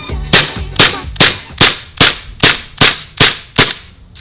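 Elite Force 1911 CO2 airsoft pistol firing nine sharp, snappy shots in a steady rhythm about half a second apart, each a loud close crack with a short decay.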